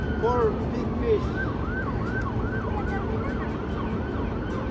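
Police car sirens wail in a repeated rising and falling pattern, steady and moderately close, over a low background of traffic and ambient noise.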